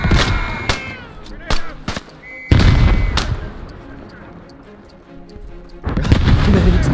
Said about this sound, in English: Grenades, baby! Nothing but grenades!